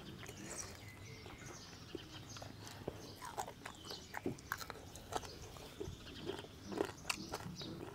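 Crunchy, chewy bites into grilled pig ear, eaten with pickled mustard greens, come as irregular close crackles and snaps over a low background, with no talking.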